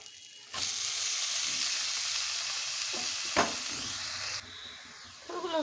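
Slit green chillies and whole tempering spices dropped into hot oil while cooking banana stem with fish head: a sudden sizzle bursts in, holds steady with a sharp crackle midway, then eases to a quieter fry.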